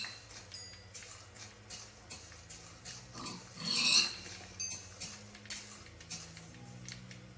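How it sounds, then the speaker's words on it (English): Pigs grunt in a Minecraft world, scattered soft oinks over a quiet game background with a ticking pulse, one louder burst near the middle. "Pigs."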